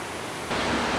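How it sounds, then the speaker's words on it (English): A powerful mountain waterfall roars along the Pacific Coast Highway in California, a steady broadband rush that swells louder midway and stays close and continuous with no voices. "I just can't get over how crazily powerful this waterfall is"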